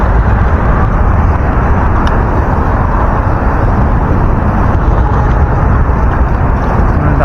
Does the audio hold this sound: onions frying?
no